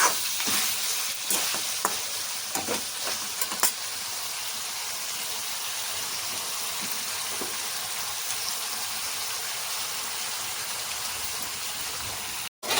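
Mutton sizzles steadily in hot oil in a pan, a dense, even frying hiss that runs the whole time, with a few stirring scrapes near the start and no talking.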